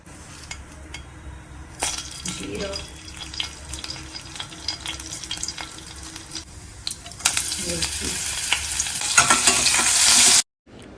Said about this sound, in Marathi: मिरची छान फ्राय करून घ्यायची आहे